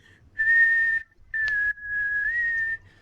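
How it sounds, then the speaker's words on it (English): Clear solo whistling demonstrating a saxophone-style pitch bend: a sustained high whistled tone, a short break, then another long whistle that starts high and glides lower, heard close and alone. "So it's like when you're whistling high pitch and then you have to drop the pitch doing something like this."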